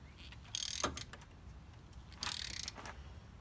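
Spark plug being tightened in a 1999 Honda Civic 1.6 engine: two quiet bursts of ratcheting and scraping metal clicks, each lasting about half a second, separated by a pause, close by with no talking.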